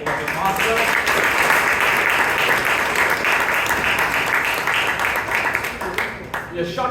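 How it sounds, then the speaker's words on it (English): An audience at a Bangalore Toastmasters club meeting applauds the speakers, with dense, sustained clapping that fills the room for several seconds and then thins out near the end. "A round of applause once again for all the speakers and the table topic master"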